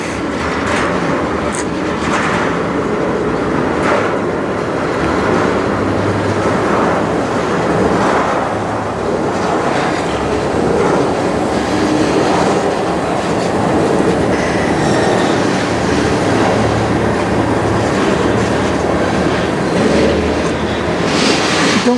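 CN manifest freight train with locomotives 5779 and 3942 passing in Sarnia, Ontario: a continuous loud rumble and roar of rolling railcars with faint rhythmic clatter, steady throughout.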